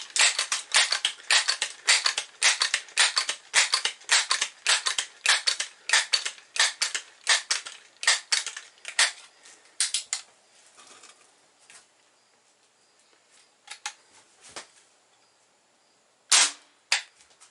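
A Crosman 1377 pump air pistol is worked over a chronograph. A long run of sharp, evenly spaced clacks comes close and loud, then thins out into scattered clicks, with one last crisp snap near the end.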